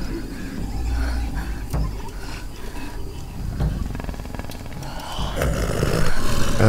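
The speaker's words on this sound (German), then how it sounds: "Und die Brüllaffen." Howler monkeys roar in the jungle of the Shadow of the Tomb Raider video game, a continuous rumbling chorus of deep roars with rising intensity toward the end, heard alone without speech.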